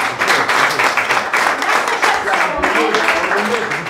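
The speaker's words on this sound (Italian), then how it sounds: "facciamo ancora un grande applauso per quello che fate" Loud, close, dense applause from an audience at a regional excellence awards event in Somma Vesuviana, a continuous roar of clapping with a few voices mixed in.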